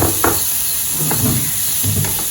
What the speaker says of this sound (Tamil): கொஞ்சம் வெங்காயம் ஓரளவு வதங்கிருச்சுங்க